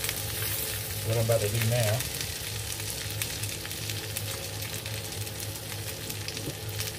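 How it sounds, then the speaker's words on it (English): Thick-cut boneless pork chops sear in butter in a cast iron skillet, giving a steady close sizzle and crackle while someone talks over it. "It was on high when we started, just to get them seared."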